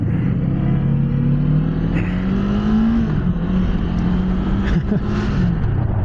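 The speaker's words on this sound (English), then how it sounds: "It has the same problem as most of these small Kawasaki engines, that they have to rev a lot before they actually start moving." A small-displacement Kawasaki Eliminator motorcycle engine revs steadily and loudly up close, its pitch climbing and wavering as it builds revs before pulling away, with a continuous droning rumble throughout.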